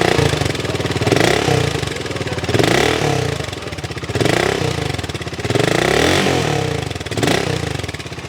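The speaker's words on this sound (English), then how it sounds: "now let's start this motorcycle." A BSA Gold Star 650 motorcycle engine thumps at idle and is repeatedly revved, rising and falling in loud bursts every second or two.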